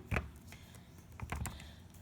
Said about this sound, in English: Okay, so we're going to type this in.